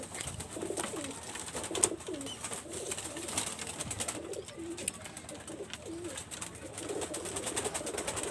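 Tiger Dabler pigeons cooing, soft repeated rolling coos that come one after another at a steady pace, fairly faint and close, with no talk.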